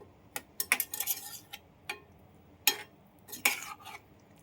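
A utensil stirs a jackfruit curry cooking down in a pan, making sparse, irregular clinks and scrapes against the metal, fairly quiet with short gaps between strokes.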